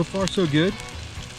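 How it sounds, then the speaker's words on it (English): Turkey sausages sizzle in a pan over an AceCamp ultralight camping stove, a steady hiss running beneath a short spoken remark and continuing faintly after the voice stops. "Sausages are sizzling in the pan."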